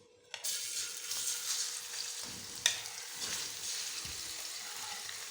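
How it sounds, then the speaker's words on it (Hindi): A kilo of chicken hits a cup of hot ghee for Afghani karahi after a moment of quiet, then a steady close frying sizzle continues with a few stirring clanks. "सबसे पहले चिकन को हम घी में अच्छी तरह फ्राई करेंगे।"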